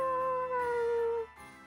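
A dog in the video game Bravely Default 2 gives a single long, drawn-out howl that slowly falls in pitch and then fades. It is fairly quiet and sits over soft sustained tones.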